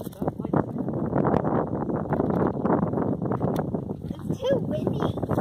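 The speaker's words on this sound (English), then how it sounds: "It's too windy." Strong wind buffets the microphone outdoors with a steady, loud rumbling roar throughout, and a brief higher squeal near the end.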